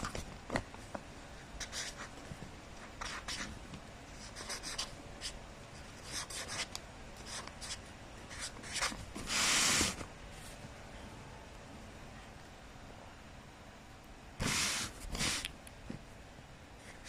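Pen scratching across paper while someone works a limits exam problem, a steady run of short soft strokes with a few louder rubbing bursts as the sheet is handled, close and quiet with no talking.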